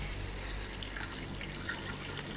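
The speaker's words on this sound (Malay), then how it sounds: "Kita masukkan air dulu." Water poured into a cooking pot while making nasi kabsah with chicken, a steady continuous splashing pour heard up close and fairly loud, alone without talk.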